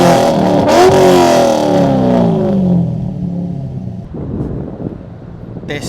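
A 2003 Corvette Z06 engine revs hard and then falls away in a descending whine, with wind buffeting the microphone as the sound fades out.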